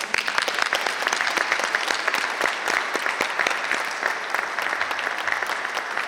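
Audience applauding at the inauguration of ILR Logistica Romania's trimodal hall, a dense, steady round of many hands clapping close by for about six seconds with no speech over it.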